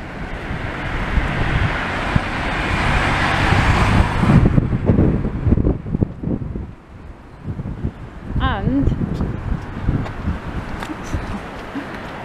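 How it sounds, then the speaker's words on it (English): Wind gusts through Stanley Park as it gets dark, a loud broadband rush against the microphone that eases partway through. A voice can be heard under the blowing. "Wind's definitely getting up."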